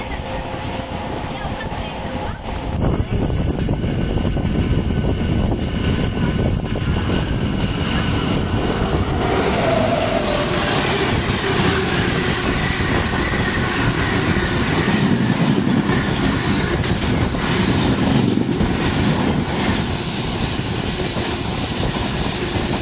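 A Tirupati-Pondicherry MEMU express train runs steadily, its loud continuous rumble and rattle heard from inside the coach with a slight lift in intensity partway through, no voices over it.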